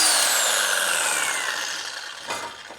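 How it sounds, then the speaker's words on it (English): A Sawzall reciprocating saw cuts through rusty bolts under an Audi Quattro, making a loud, steady, high-pitched buzzing whine that fades slightly over a few seconds and ends with a brief metallic clack. "the Sawzall is actually much better for something like this"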